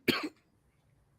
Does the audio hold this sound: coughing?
yes